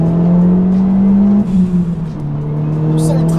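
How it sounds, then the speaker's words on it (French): A turbocharged sports car accelerates with a loud, sustained engine drone that rises in pitch, dips briefly as if shifting, then climbs again up close. "au début, vous accélérez, il ne se passe pas grand-chose, puis quand vous arrivez vraiment à la zone où le turbo charge"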